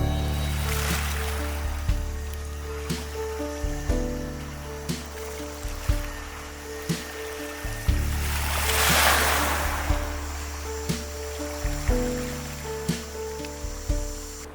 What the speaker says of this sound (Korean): 이건 바닷소리 하는 거지.